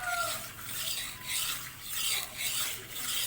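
A machete-style chopping blade is stroked across a whetstone in a smoothing pass with light pressure, producing rhythmic raspy scraping swipes about every half second, close and clear with no talking.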